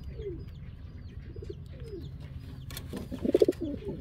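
Caged pigeons, including a young bird, a hen and a male, cooing in soft repeated low calls, fairly faint and close, with a brief louder burst of cooing near the end.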